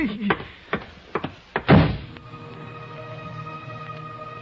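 A door in an old-time radio detective drama thuds open and shut, several knocks and thumps in quick succession followed by a heavier slam, leaving a quiet steady background hum.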